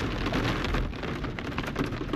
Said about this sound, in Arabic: هذه فيها زخات برد